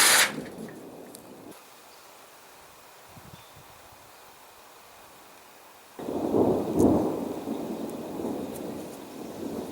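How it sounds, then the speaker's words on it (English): Thunder rumbles outdoors near a cabin as rain approaches, a loud burst at the start, then a quiet lull before a second deep rolling rumble with leaves rustling. "Got a little rain coming up here pretty quick."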